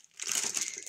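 A short burst of the paper covering a cross-stitch canvas crumpling close by, crisp crackling that rises quickly and continues for about a second.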